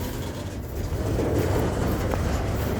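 A heavy BlueScope Steel freight train rolls slowly past at Hastings, Australia, with a low, steady rumble, and a single metallic clank of wagon couplings locking cuts through near the end.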